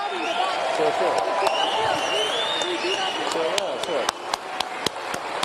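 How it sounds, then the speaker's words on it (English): At a VivaTech 2023 tech conference, an audience applauds for Elon Musk in a dense, sustained wash of clapping, with a few louder distinct claps near the end as it thins. "Now, I would like a very, very warm round of applause to Elon Musk"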